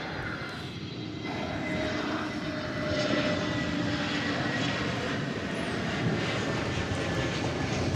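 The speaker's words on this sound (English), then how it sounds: "From San Diego, California comes this Frontier Flight 3990." Frontier Airlines jet inbound from San Diego to DFW Airport, its engine roar building and holding loud and steady nearby.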